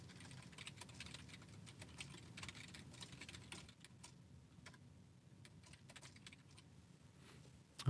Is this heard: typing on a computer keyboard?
yes